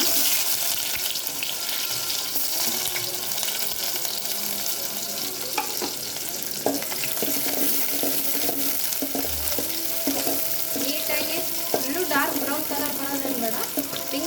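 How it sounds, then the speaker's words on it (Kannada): Onions dropped into hot oil in a home kitchen, frying with a steady hiss and crackle, with occasional stirring clinks and running water close by. "ಎಣ್ಣೆ ಕಾದಿದ್ದೆ ನೋಡಿ ಈರುಳ್ಳಿಯನ್ನು ಹಾಕೋಣ"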